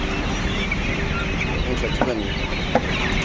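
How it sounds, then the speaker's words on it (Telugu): Sonali chickens cluck in a busy coop with steady background noise and a couple of sharper squawks near the end. "సోనాలి కోళ్ళు ఇవి వచ్చేసి సోనాలియా వీటి పేరు"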